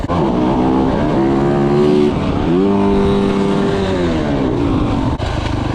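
Dirt bike engine in third gear at half throttle, a loud, close, sustained buzzing rev that rises, dips around the middle, then climbs and holds again, with no talking over it.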